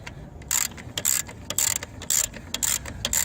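A ratchet wrench clicks in bursts while loosening a bolt to remove the alternator on a 2002 Subaru Impreza WRX; the rapid metallic pawl ticks come in short repeated strokes, close and fairly loud, with no talk.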